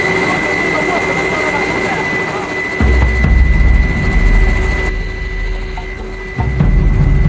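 Firefighting helicopter engine and rotor, a loud steady roar and whine that runs throughout, with low rumbling surges growing stronger midway and again near the end. No one speaks.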